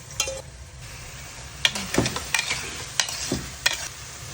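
Potatoes tipped into a fried spice paste give a soft sizzle, with a few scraping stirs of a spatula at intervals and short clinks against the pan.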